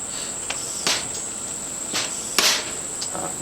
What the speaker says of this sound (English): then I'll bounce it on the ground a little bit